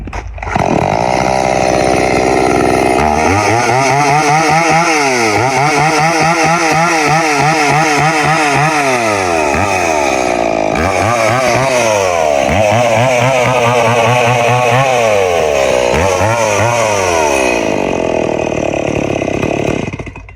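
A small two-stroke chainsaw-type engine, freshly fitted with an adjusted chain, starts and runs loud and close, revving up and down repeatedly in sharp rising and falling bursts before settling toward idle.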